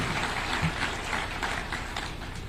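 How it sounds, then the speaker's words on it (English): A round of applause from an audience at a Kenyan presidential event celebrating music performers, a dense, continuous wash of clapping at moderate distance. "I still want to ask all of us to give them a round of applause"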